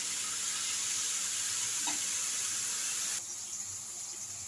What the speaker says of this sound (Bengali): করলা ভাজিটা বসাই দিলাম, লবণ একটু হলুদ দিলাম। এবার নাড়াচাড়া করে ভালোভাবে মিশিয়ে নেব।